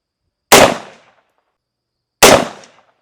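.22 ARC rifle firing two sharp, loud shots about two seconds apart, each a close crack with a brief decaying tail and silence in between.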